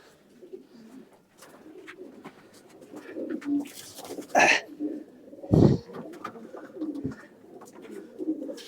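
Racing pigeons coo softly and repeatedly while being handled and placed into boxes for toss training, with a couple of louder handling thumps and rustles partway through and no talking.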